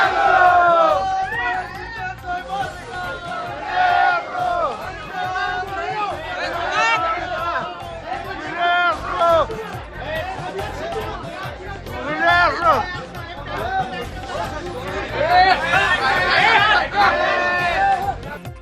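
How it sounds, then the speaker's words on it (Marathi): Party workers cheer loudly in Koregaon after an election victory, a dense crowd of shouting and chattering voices rising and falling in waves, with louder bursts of overlapping yells near the end. "कोरेगावात कार्यकर्त्यांचा जोरदार जल्लोष"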